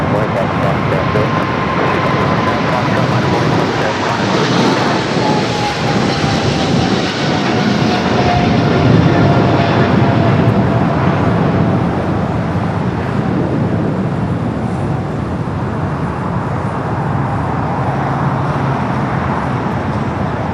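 Aircraft rolling down runway 25 left at Los Angeles International Airport, a steady broad roar of engines with a slowly falling whine, sustained and loud throughout, with air traffic radio voices faintly under it.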